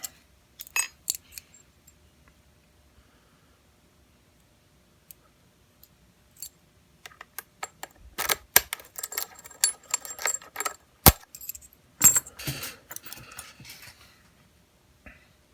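Lock picking on an ASSA Twin Pro lock clamped in a vise: sparse, close metallic clicks and scrapes, with a few sharper taps and clusters of small ticks in a quiet room.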